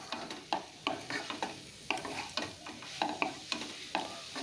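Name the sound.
stirring and sautéing broccoli with spices in a pan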